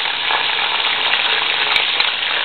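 Onion frying in oil with chicken and spices for traditional Algerian tlitli: a steady, loud, broadband sizzle that runs unbroken through the clip, with no voices.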